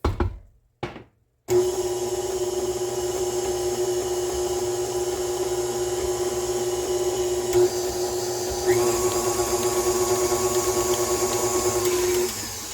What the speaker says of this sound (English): Now give that a little mix.